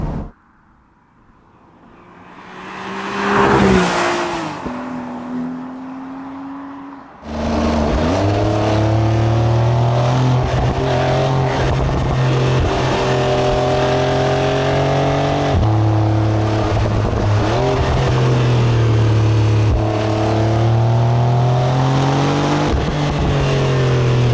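A Porsche 992 Targa 4 GTS engine accelerates while driving, loud and steady, its revs climbing in strong harmonic sweeps with brief dips at gear changes, after a short quieter opening.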